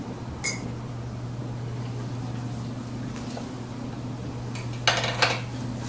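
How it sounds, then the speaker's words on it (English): Fluorescence filter cubes being switched on an Olympus BX41 upright microscope, a couple of sharp metallic clicks and clunks over a steady low hum, near and fairly quiet, no speech. "This is how you change the cubes from one cube to the next."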